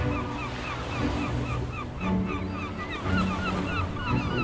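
Steady wash of ocean surf breaking along a seashore, a continuous rolling roar with gentle swells in loudness, no voices present.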